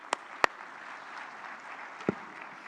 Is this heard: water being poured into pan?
no